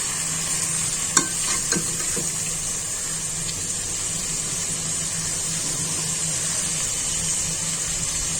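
Chicken fries in a pan with garlic ginger paste, a steady even sizzle throughout with a few sharp utensil clicks near the start, close and without speech.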